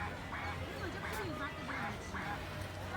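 Artificial duck quacks played from a speaker in a city park in Changzhou, Jiangsu, China, near dolphin-shaped boats: a few short nasal calls repeat over steady background crowd noise.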